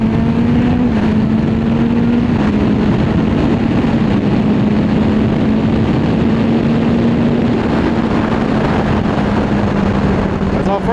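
A Kawasaki ZZR 1400 motorcycle engine, running with one strut, drones loud and close with a steady, slightly wavering pitch over a dense wash of road and wind noise.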